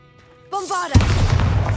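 A voice calls out briefly, then a loud, heavy blast of the Bombarda spell in the Hogwarts Legacy video game booms and rumbles on through the rest of the moment.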